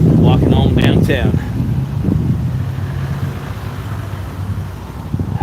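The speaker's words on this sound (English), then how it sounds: "The gust of wind is really nice." Wind gusts buffet the microphone outdoors downtown, a loud rumbling roar that runs throughout, with someone speaking briefly at the start.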